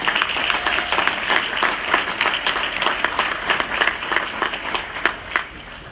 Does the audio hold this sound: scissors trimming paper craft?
no